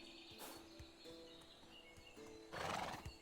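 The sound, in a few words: horse in the video game Medieval Dynasty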